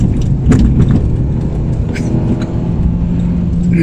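A Citroën C2 VTS accelerates, its engine giving a loud, close rumble that builds, with a few short sharp clatters near the start.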